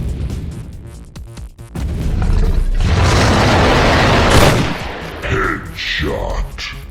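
A gunshot headshot on a dinosaur in the ARK survival game, one loud broadband blast with mechanical clatter and a long rumbling tail that fades into scattered game sounds.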